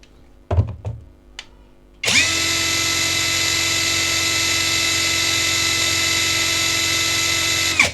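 Dagmara TD172 impact driver at speed 3: a few thuds and handling knocks, then the motor kicks in at about two seconds and whines loud and steady until it stops right at the end.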